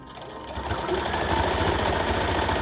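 A sewing machine stitches fabric pieces for a patchwork fish rug, a loud, close, rapid mechanical chatter that speeds up and holds a steady running pace.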